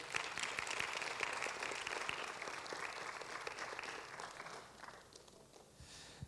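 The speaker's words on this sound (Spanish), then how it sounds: "Dale un fuerte aplauso al Señor." A church congregation applauding during a sermon, a dense, sustained wash of many hands clapping that gradually thins and fades toward the end, with no talk over it.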